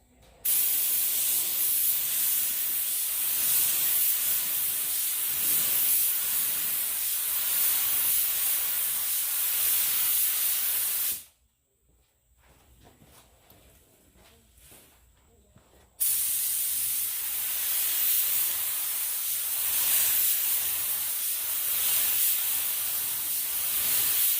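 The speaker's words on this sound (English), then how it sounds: "We only need to shoot the base coat on the area that's going to be the stripes." Spray gun applying base coat to the rear bumper of a classic Mustang to paint racing stripes, a loud, steady hiss lasting about eleven seconds, a short pause, then a second long burst.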